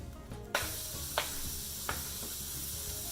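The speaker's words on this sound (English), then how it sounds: "I also like to do just 1 bit of onion at first, so that I can see if it sizzles" Chopped onion dropped into hot olive oil in a pan sets off a sudden bright, steady sizzle, with a few sharp crackles and stirring clicks popping above the close, continuous hiss.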